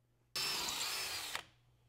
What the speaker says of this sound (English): now we're gonna finish off with a 3 16th drill bit